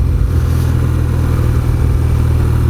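A BMW R12 cruiser motorcycle's air-cooled horizontal boxer twin idles steadily up close, a loud, continuous low-pitched throb with slight mechanical clatter and no talking.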